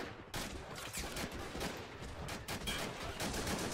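Dense, continuous battlefield gunfire in a World War II Omaha Beach Normandy landing video game, many weapons firing at once in a constant distant roar with overlapping bursts.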